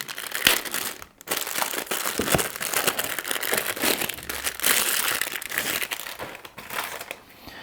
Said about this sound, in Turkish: burada ViewSonic logosunun olduğu bölüm jelatinle kapatılmış. Onu çıkarttım.